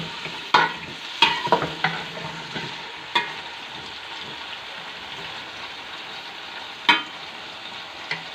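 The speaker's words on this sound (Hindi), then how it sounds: "साथ ही इसके हम आलू डालेंगे और उसको भी अच्छे से फ्राई कर लेंगे।" Potatoes and cauliflower fry with cumin in a pan, a steady close sizzle with sharp clanks of a spoon against metal at the start and a couple of later knocks, no speech.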